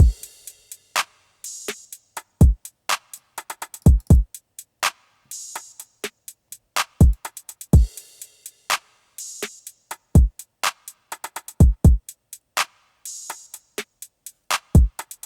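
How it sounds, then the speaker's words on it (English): A drum loop programmed in Studio One 4, with a washy crash and sizzling open hi-hat hits riding over rapid ticking hats and booming low kicks, steady and upfront, no talking. "the last two percussive elements were just a crash and an open hat"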